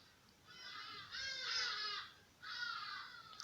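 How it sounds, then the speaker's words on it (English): Crows cawing outdoors, two drawn-out harsh calls in a row and then a third after a short pause, fairly faint over a quiet background. "I woke up the birds."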